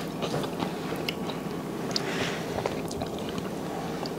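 Someone chewing seafood boil with cucumber in sauce, close and quiet, with soft wet crunches and bites repeating over a faint background hum and no talk.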